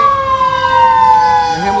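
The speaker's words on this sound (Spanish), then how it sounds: "Dejemos que pase por acá la ambulancia." An ambulance siren wails loudly and steadily, its tone sliding slightly downward as the vehicle passes close by on a street in Los Angeles, California.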